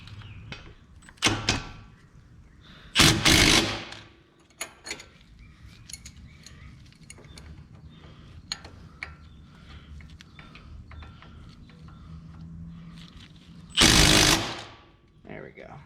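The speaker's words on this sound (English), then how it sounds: "Go ahead and put that bolt and nut back in." A wrench works a 14 mm bolt and nut on a Mazda 3 during CV axle seal work, with scattered metallic clicks and clanks and two louder rattling bursts of tool action close by.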